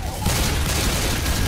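Gunfire in the zombie shooter Left 4 Dead 2, a dense continuous barrage of shots packed under loud, excited overlapping voices, steady and close throughout.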